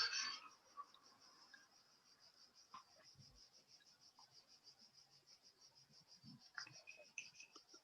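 Cicadas buzz in a steady, high, pulsing drone that runs through the whole stretch, fairly faint, with a few soft distant knocks and brief low sounds now and then.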